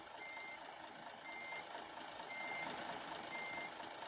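A bus backs up in a bus simulator game, its reversing alarm beeping four times at even intervals over a low, steady engine hum, fairly quiet overall.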